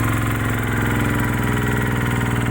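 A Thai e-taen farm vehicle engine runs in second gear with a loud, steady, rhythmic chugging and heavy vibration, close by and with no voices.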